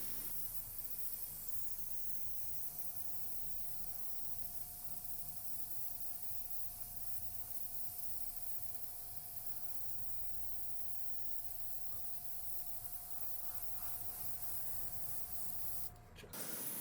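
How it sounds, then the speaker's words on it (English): A Border Model Black Flame 0.3mm airbrush sprays paint at slightly lowered pressure. Its soft, even hiss holds steady for most of the span and stops abruptly near the end. "Slightly lower pressure here. The airbrush sprays nicely, but my paint isn't right in terms of dilution."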